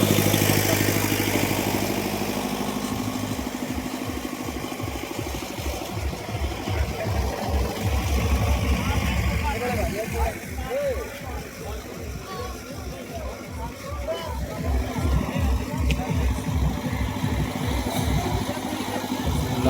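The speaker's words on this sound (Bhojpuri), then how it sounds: "जनरेटर स्टार्ट होगा" A generator at a DJ light and sound setup cranks and settles into a steady, loud mid-pitched chugging engine pulse, with voices talking over it.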